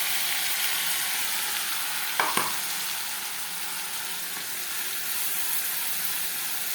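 Spice masala frying in plenty of oil left from frying potatoes, a dense steady sizzle close by with a couple of brief knocks from a utensil midway, no voices.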